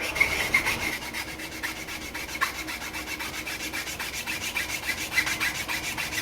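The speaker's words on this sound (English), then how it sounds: "I'm going to get a file and keep it perfectly flat and rub it down" A hand file is rubbed flat across a part on an Escort RS Cosworth project. Steady, close back-and-forth rasping strokes run in an even rhythm, heard alone with no talk.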